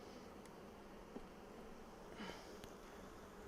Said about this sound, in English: So shaking the bees off again to get a really good look.